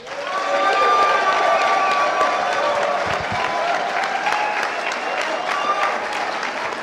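An audience at a live event on Bob Lazar and UFOs claps and cheers loudly and steadily. A dense, continuous wash of applause is mixed with scattered whoops and yells, and it holds near and full throughout.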